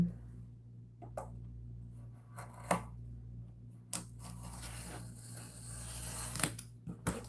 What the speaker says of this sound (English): Let's see if I can't get this with the X-Acto knife.